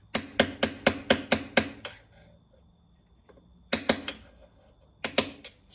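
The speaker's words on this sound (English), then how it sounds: "Install it flush with a hammer and a punch." A hammer drives a punch against a small end plug being seated flush in a Getrag 260 gearbox. A quick run of seven sharp metallic taps comes first, then a pause, then two short pairs of strikes, close and clear.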